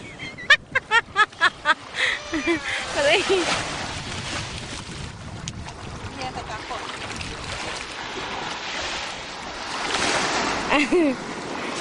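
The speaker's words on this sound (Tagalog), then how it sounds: "Bakit ganito ang tubig dito? Gumagalaw." Sea water washing and churning at a beach, a steady close wash of surf with splashes, under children's and adults' voices and lively chatter.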